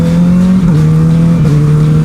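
A girlfriend's motorcycle engine revs loudly and up close, holding a steady droning pitch that dips briefly and settles again, with no talking.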